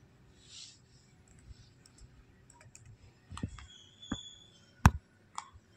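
A computer keyboard is used to type a password: sparse, light key clicks in an irregular rhythm, with a few sharper, louder taps near the end over a quiet room.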